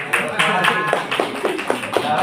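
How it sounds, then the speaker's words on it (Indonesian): A crowd at a training workshop claps in a quick, fairly even rhythm, with voices mixed in under the applause. "Tepuk tangan"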